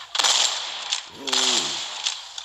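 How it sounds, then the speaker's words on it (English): Pump-action shotgun blasts in the mobile shooter Nova Legacy: two loud, close booming shots with a long rushing decay, and a short voice sound under the second. "looks like it's a pump action shotgun"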